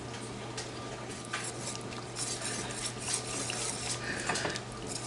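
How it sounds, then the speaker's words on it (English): A spoon scrapes and clinks against a pot while a tuna noodle casserole mixture seasoned with pepper is stirred, a busy nearby clatter with a faint wet sizzle underneath and no talking. "Get this all mixed in."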